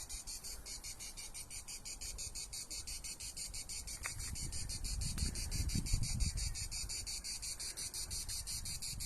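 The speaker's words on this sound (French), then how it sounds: "ça me fait trop penser à une cigale" Cicada buzzing in a pulsing, rhythmic high drone on a hike, steady and fairly faint, with light rustling and wind underneath and no talk.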